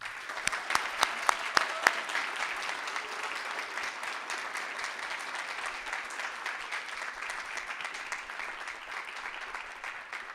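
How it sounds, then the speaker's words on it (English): At a GISMA 2022 graduation ceremony the audience applauds the valedictorian, a full, sustained round of clapping with a few sharp individual claps standing out at the start. "give a wide round of applause to this year's valedictorian, Miss Selina Kapus"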